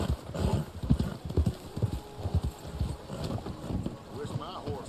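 Horse hooves clip-clopping in a steady rhythmic gait in the video game Red Dead Online, moderately close, with speech heard over parts of it.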